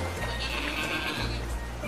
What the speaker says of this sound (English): but you got a goat